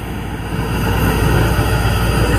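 Steady, loud engine drone with a low rumble and broad hiss, constant throughout like an aircraft engine heard from inside the cabin.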